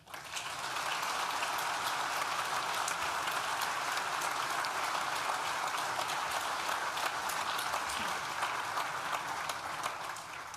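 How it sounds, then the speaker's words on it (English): Audience applause at a university graduation ceremony swells quickly and holds as an even, rain-like roar of many clapping hands, heard from a moderate distance until it tapers near the end. "Please join me in thanking them with a well-deserved round of applause."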